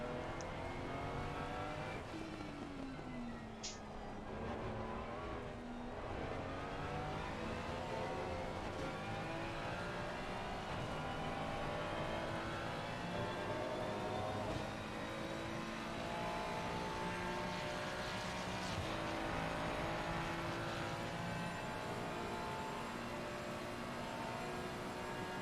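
Onboard a yellow Ferrari GT3 race car on a wet lap at Barcelona, the engine droning loud and steady as it rises and falls through gear shifts with a constant roar of spray and road noise.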